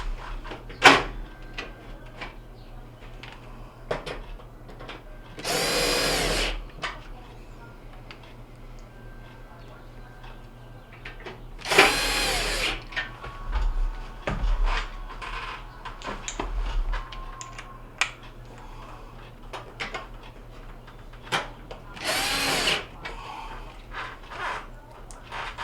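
A power drill drives bolts into the back panel of a Whirlpool oven that does not bake or broil. It gives three separate loud whirring bursts of a few seconds each, with quieter clicks and handling noise between them.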